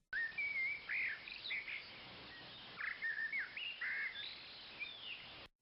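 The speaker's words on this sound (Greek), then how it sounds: "Αν έχεις δίκιο, τα πουλιά θα σου τραγουδήσουν." Birdsong plays as a reward in an educational pair-matching game, with bright whistled chirps and short trills coming in repeated bursts over about five seconds, clear and steady with no talking.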